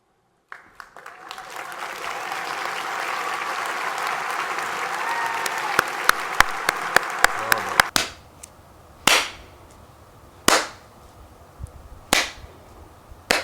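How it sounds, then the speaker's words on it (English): An audience applauds at a Space Force uniform debut, a sustained wash of clapping that builds and holds for several seconds, then breaks off into a few loud, sharp, isolated claps. "I know they're all applauding"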